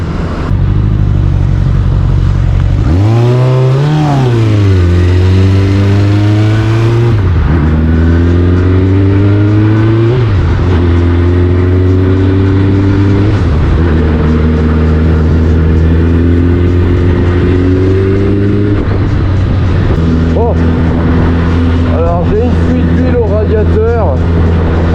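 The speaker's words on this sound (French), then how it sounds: "ma bécane elle a plein d'huile, hein, c'est une Suzuki Bandit" A Suzuki Bandit motorcycle with an oil leak at the radiator, its engine loud and close, revving up and dropping back repeatedly with rising and falling pitch sweeps over a steady throaty idle, with a voice talking over it.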